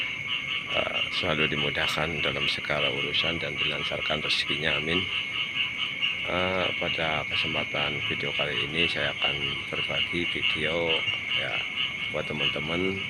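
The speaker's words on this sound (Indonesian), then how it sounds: "Ini suara kodok ya, asli." Many frogs croak steadily in the morning by a rice field in front of a house, with a constant high insect-like drone behind them. Someone talks throughout over the chorus.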